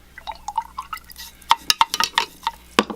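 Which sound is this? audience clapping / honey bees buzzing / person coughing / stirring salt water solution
stirring salt water solution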